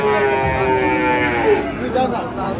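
Sahiwal cattle at a busy rural cattle market in Dinajpur, with long drawn-out harmonic moos rising and falling over steady crowd noise, close and fairly loud.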